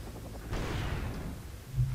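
Gunfire from a Wargame: European Escalation match, a sustained burst of shots and rumbling blasts starting partway in, fairly loud over a steady low battle drone with a sharper thump near the end.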